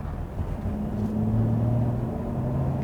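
A Mercedes GLS 400d diesel accelerating gently at low speed, heard from the cabin as a steady low engine drone that rises slightly in pitch, with road rumble underneath and no talking.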